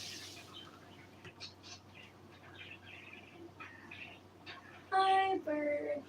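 Birds chirping outdoors, scattered faint tweets through quiet background, then a louder, closer burst of calls near the end.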